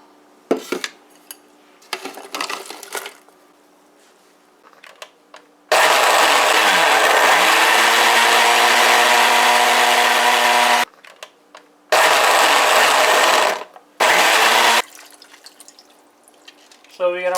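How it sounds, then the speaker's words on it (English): Scallions and peeled garlic are puréed for bara in a countertop blender. A loud, steady whir runs about five seconds, then two shorter bursts follow, with kitchen clatter and dishes clinking before and after. "So we're gonna go blend this too now for our bara."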